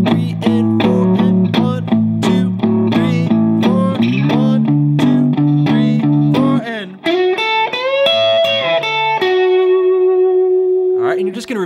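Distorted electric guitar hammers out power chords, chugging steadily, then sliding into sustained bent notes that ring out loud and close with no talking.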